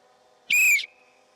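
A single long, loud whistle blast, steady and unbroken for about a third of a second, used as an attention-and-prepare signal in shooting practice, standing alone over a quiet background hum.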